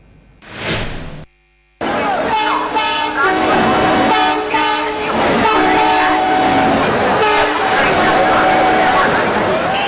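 A crowded passenger train packed with pilgrims heading to the Amavasya Mela rumbles loudly and continuously, with horn-like tones and a constant din of crowd voices over it. There is a brief near-silent gap early on.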